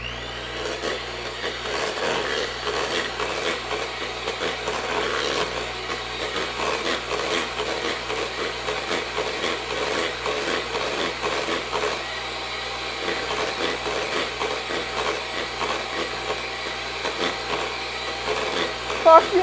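A mixer blends cookie dough made with milk and vanilla extract, a steady whirring motor with scraping, rattling texture running nearly twenty seconds, a voice occasionally talking over it.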